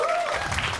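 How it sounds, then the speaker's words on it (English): Comedy club audience at Emerald City Comedy Club breaking into scattered clapping on cue, a broad wash of hand claps that swells in the second half after a brief tonal murmur at the start. "Now clap if you want to know why I'm bald"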